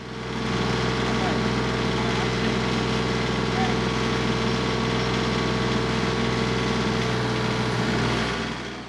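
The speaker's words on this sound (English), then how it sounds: "This is the TYM 2515 tractor. It's a 25 horsepower large frame tractor" A TYM 2515 25-horsepower large-frame tractor engine runs at a steady idle, a continuous close low drone that holds even for about nine seconds before tapering slightly at the end.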